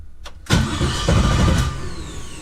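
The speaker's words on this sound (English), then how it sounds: "this thing just cranks the engine really fast" A quad-turbo Audi S4 engine cranks rapidly on its starter with a lightweight battery, a fast churning whir that catches and settles into a loud, close running rumble.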